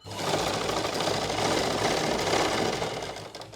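A sewing machine stitches a salwar waistband, running in one loud, continuous whirring burst with a steady mechanical chatter, locking the seam with a reverse stitch before slowing to a stop.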